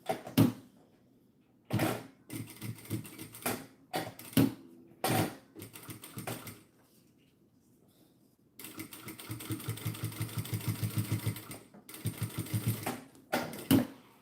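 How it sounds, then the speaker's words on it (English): A sewing machine top stitching a seam on scrap fabric, running in short rapid bursts of close mechanical chatter separated by quiet pauses, with one longer steady run near the end. "so I'll do my top stitch on this side now"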